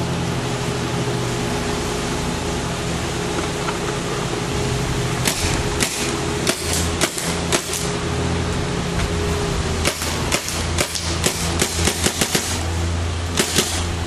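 Against a steady mechanical hum, a Tippmann A5 paintball marker fires a series of sharp pops, first spaced out, then in quicker irregular bursts, fairly close, after being run over by a car.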